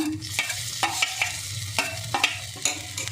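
Garlic and ginger paste is stirred in a hot pan, with a spoon scraping and knocking in quick irregular strokes over a low, continuous sizzle.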